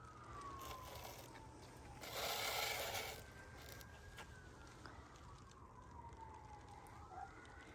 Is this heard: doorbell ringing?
no